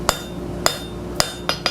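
A 3-pound hand hammer strikes steel bar stock being forged square by hand: five sharp ringing blows, the first three evenly spaced and slower, the last two quicker, loud and close with no talk.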